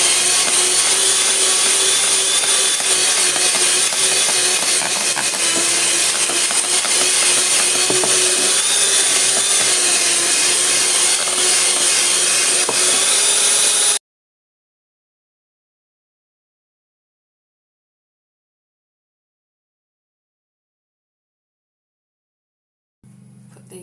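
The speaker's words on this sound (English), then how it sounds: "I'm just whisking this all together." Sponge cake batter for a strawberry sponge cake is whisked by hand in a bowl, a steady, fairly loud scraping and rubbing that runs unbroken for about fourteen seconds, then stops into silence.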